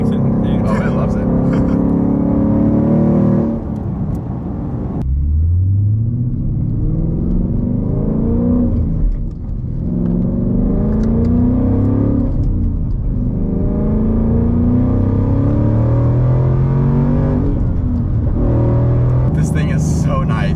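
Supercharged 675 hp Ford Mustang GT V8 rumbling as it accelerates and corners, its rising and falling revs sweeping through repeated pulls, with someone talking over the engine throughout.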